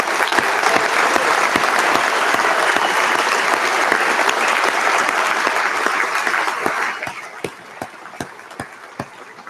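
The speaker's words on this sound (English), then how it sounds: "One more round of applause." Crowd at a University of Guelph convocation ceremony applauding in a dense, sustained wash that thins into a few scattered, separate claps toward the end.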